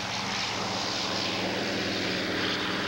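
A Douglas DC-3 propeller airliner in cruise flight, its piston engines droning in a steady, loud, even hum with a low throbbing tone and no voices.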